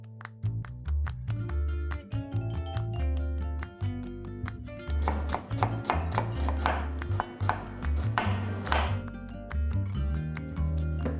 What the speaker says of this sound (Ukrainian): Дрібно нарізаємо моркву, селеру та цибулю.